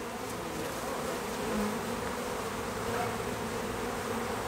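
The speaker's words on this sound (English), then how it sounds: "Much bigger bee. It might be a drone" Honeybees swarm around a wooden birdhouse during a bee removal, making a steady, close, dense buzz that fills the whole stretch with no talking.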